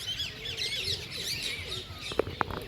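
A large gathering of parrots and pigeons in Vrindavan fills the air with busy overlapping chirps and squawks, ending with a few sharper, louder calls close by.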